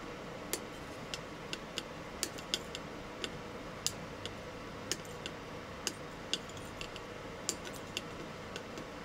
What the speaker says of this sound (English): You cut off all the legs. Do one by one, get much better result.